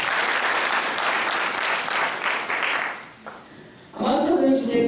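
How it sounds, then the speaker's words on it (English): Audience applause at a graduation ceremony, a loud crowd clapping that fades out after a few seconds, followed by a voice speaking. "Please give him a hand clap."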